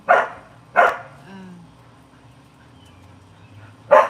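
A dog barks three times in short, sharp bursts, two close together and a third after a long pause, fairly near and loud with a low background hum.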